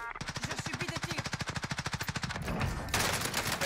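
Rapid automatic gunfire in Warzone, a long, steady burst of evenly spaced shots followed by a rougher, noisier stretch of mixed blasts, fairly close and loud with no voices.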